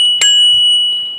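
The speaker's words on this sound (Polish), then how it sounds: "dzwonek sobie nawet zamontowałem" A single sharp ring from a bicycle bell mounted on a touring bike's handlebars, loud and close, its bright metallic tone hanging and slowly fading.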